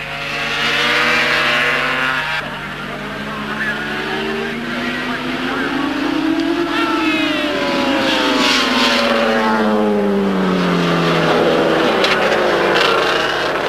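Superbike motorcycles racing around the Timaru circuit in New Zealand in 1976–77, engines whining and rising and falling in pitch as they sweep past through corners, loud and continuous beneath a narrator's commentary.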